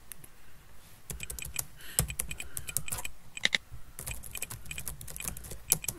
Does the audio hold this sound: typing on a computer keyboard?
yes